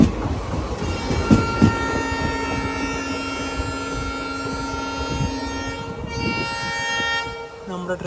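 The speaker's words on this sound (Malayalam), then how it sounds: "നമ്മുടെ ട്രെയിനിൻ്റെ ഹോണടിയാണ് കേട്ടത്." Rajya Rani Express horn sounding at night near Vaniyambalam station, a long sustained loud horn blast over the rolling rumble and clatter of the moving train, fading out near the end.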